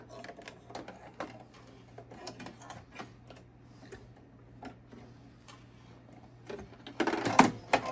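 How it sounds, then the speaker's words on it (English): An embroidery machine stitches a placement outline for a patch, giving a quick, ticking run of needle strikes over a steady low motor hum, with a louder burst of rapid stitching near the end. "I will thread it so that it will stitch the placement stitch"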